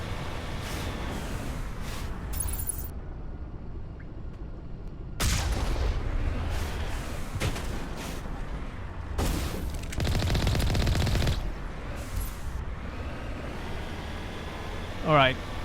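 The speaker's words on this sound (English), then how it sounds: "back to shooting some Geth" Gunfire against Geth enemies in Mass Effect 1: Legendary Edition: loud, dense bursts of shots and impacts erupt in the middle stretch, mixed with game noise while someone talks over much of it.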